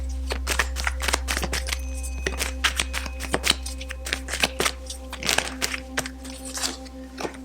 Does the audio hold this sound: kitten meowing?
no